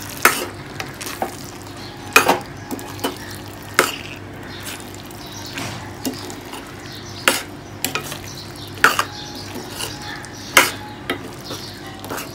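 Dried peas are stirred in a pan over a medium flame, a spoon scraping and clinking at irregular intervals against a soft background sizzle.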